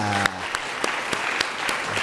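A church congregation claps steadily to welcome a newly registered family during a Sunday worship service, a dense, even wash of applause with a few sharper claps standing out.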